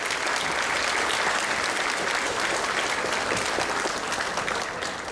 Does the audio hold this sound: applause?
yes